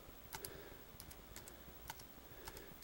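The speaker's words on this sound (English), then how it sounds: "I'm gonna type in" Faint, sparse taps on a laptop keyboard while entering a search query, a handful of quiet individual key clicks spread over a few seconds against a steady low background hum.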